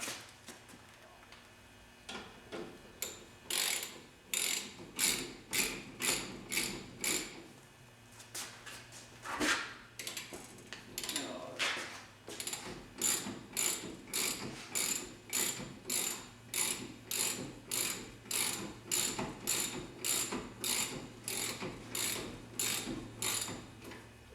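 A hand ratchet tightens a nut and washer onto a vehicle's shock mount during a six-link suspension install, making long runs of quick, crisp clicks in rhythmic bursts with short pauses between strokes, close and clear.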